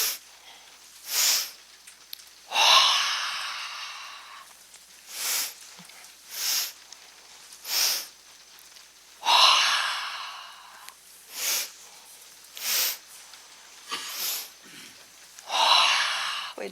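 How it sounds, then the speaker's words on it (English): Breath of joy yoga breathing done several times in a row: three quick sniffs in through the nose followed each time by a long, audible mouth exhale, close and clear with quiet gaps between rounds. "That's 3 sniffs in and a mouth exhale with movement."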